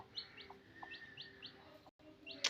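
A newly hatching chicken chick peeps from inside its egg in faint, high, repeated chirps, scattered over a quiet hiss with a brief dropout near the end.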